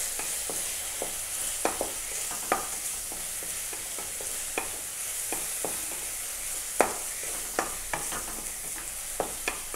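Fennel seeds, pepper and cumin sizzle in a hot pan for prawn thokku, a steady soft frying hiss broken by frequent clinks and scrapes of a stirring spoon.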